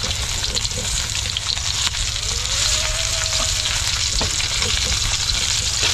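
Garlic and onion sizzle steadily in a hot pan, a continuous close frying hiss with occasional stirring scrapes and no talking.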